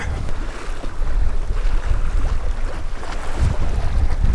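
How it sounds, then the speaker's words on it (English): Steady wind rushes and buffets across open water while bass fishing in fall, with choppy waves slapping below and constant low rumble, loud and continuous throughout. "It's gotten a little windy, a little rough"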